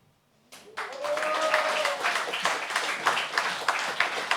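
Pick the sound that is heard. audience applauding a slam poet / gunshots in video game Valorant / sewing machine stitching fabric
audience applauding a slam poet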